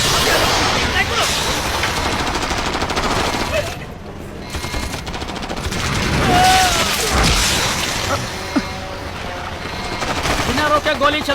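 Continuous automatic gunfire and booming blasts from an action movie battle scene, loud and dense throughout with shouted voices over the shooting.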